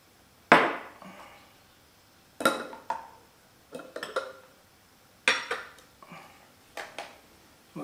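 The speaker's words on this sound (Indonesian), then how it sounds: "kemudian kita letak gelasnya" A glass is set down for V60 pour-over coffee, making a few sharp, close clinks and knocks on a hard surface. The taps come in separate bursts with quiet gaps between them, and nobody speaks.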